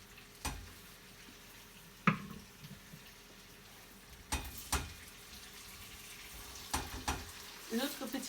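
Apples cooking in a pan of hot butter and sugar for a Tarte Tatin give a soft, low sizzle, broken by scattered clatters and stirring knocks from the pan and utensils.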